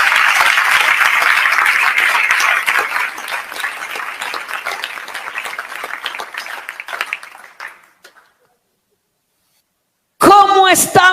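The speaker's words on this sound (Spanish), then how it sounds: "Dele ese aplauso al Señor en esta hora." Church congregation applauds loudly and densely, the clapping slowly thinning and fading out into silence, after which a voice briefly speaks.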